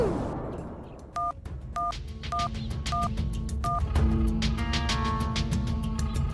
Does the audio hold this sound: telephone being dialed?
yes